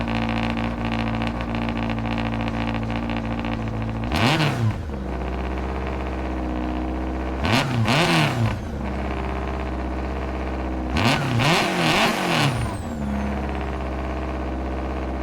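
A rally car engine in a racing video game drones steadily and revs up in three bursts, rising and falling in pitch, with no talking.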